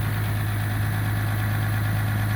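Ram EcoDiesel engine idling loudly while cold, a steady, strong low rumble with a constant drone and no change across the short stretch.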